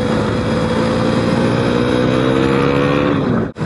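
A car engine revving hard above 6000 rpm on a curvy road, a loud, sustained close drone with its pitch climbing steadily, then cutting off abruptly near the end.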